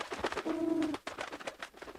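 A soft, low pigeon coo rolls out once amid a busy, rustling background of bird activity.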